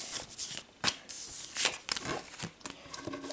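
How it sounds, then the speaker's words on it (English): Board game cards for Hostage Negotiator are shuffled close up on a tabletop, giving a string of quick riffling and snapping bursts with soft papery handling between them. "So let's shuffle these up."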